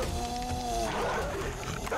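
Dogs in the survival video game 7 Days to Die let out snarling, growling cries and short barks, close and harsh, over a muddy background of game noise.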